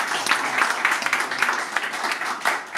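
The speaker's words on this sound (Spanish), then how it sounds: "al co-supervisor Miguel de Pablos, también un aplauso, gracias." A room applauds at an official boxing weigh-in for a world title bout, loose, uneven clapping of moderate loudness rising and falling for a few seconds.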